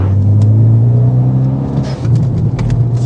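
A Renault Megane 3 RS, race-prepared and driven by professionals, accelerates with a steady, deep engine drone heard from inside, rising slightly in pitch with a brief dip around a gear change.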